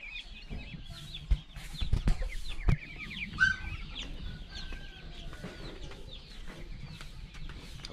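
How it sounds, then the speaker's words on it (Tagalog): A mother hen that is raising ducklings on a farm clucks in short, scattered calls. Faint chick peeps come and go over a steady rustle of farmyard noise, with no voices. "Pato ang sisiw, manok ang inahin."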